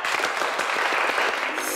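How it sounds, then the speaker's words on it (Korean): An audience at a Seoul National University industrial engineering lecture event claps in a brief, even burst of dense applause with no voices over it. "큰 박수 부탁드릴게요"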